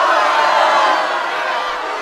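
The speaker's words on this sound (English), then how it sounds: "Here is your angry crowd." An angry crowd sound effect played from a radio studio soundboard: a steady, loud wash of many voices shouting and jeering together, with no single speaker standing out.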